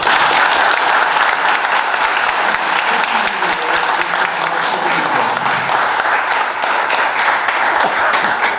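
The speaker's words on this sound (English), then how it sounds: "Please give him a round of applause." Sustained applause from a large audience, steady dense clapping that fills the whole stretch at a loud, even level.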